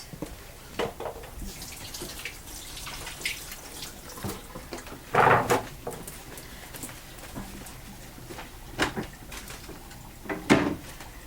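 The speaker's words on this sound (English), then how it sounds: "I'm going to wash my hands because I'm going to be working with some raw meat." Hands are washed under a running kitchen tap before handling raw meat: a soft water stream with splashes, a few louder bursts and occasional knocks, fairly quiet overall.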